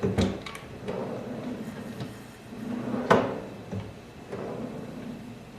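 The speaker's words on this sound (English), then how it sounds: "the drawer will slip and snap right back into place" A Hekman desk drawer slides on its metal slides and snaps into place, giving a few sharp clicks and knocks separated by softer sliding rustles in a quiet room.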